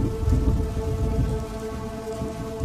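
A heavy rain and thunderstorm at night: dense, steady rainfall pours down with a deep rumbling thunder underneath, loud and continuous with no voices.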